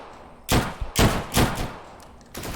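AK rifle fire in the game Deadside comes as several loud, close bursts of rapid shots separated by short pauses, each burst booming with a heavy low-end thump and a sharp crack.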